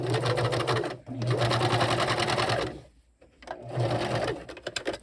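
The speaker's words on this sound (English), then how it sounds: "I'm going to sew up to that pin" A sewing machine stitches fabric up close, two loud, steady runs of rapid needle chatter separated by a short pause, with a brief clatter as it stops.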